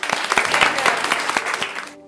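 A studio audience on a Bangladeshi quiz show, Ajker Sera Medhabi, breaks into a short burst of loud, dense clapping that cuts off abruptly after about two seconds.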